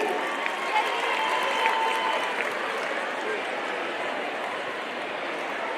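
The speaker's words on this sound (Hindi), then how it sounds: "एक बार जोरदार तालियां हो जाए सर के स्वागत में" An audience at a sports budget announcement event applauds steadily to welcome a minister, a dense even wash of clapping that holds at moderate loudness throughout.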